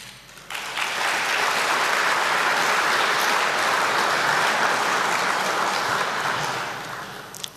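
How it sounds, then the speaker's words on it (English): Audience bursts into loud, sustained applause after a political speech, a dense wash of clapping that swells quickly, holds for several seconds and then tapers off. "I'm happy you clapped."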